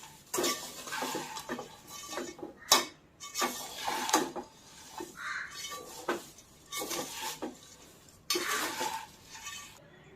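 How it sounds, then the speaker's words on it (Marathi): Fried poha chivda ingredients are stirred in a pan, with repeated metallic scrapes and clinks of a spoon against the pan in bursts, separated by short pauses, close and clear. "सर्व साहित्य ओतायचं आहे यामध्ये लगेच हलवायचं आहे"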